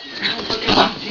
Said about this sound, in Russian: Помогите, на меня сумасшедшая собака напала.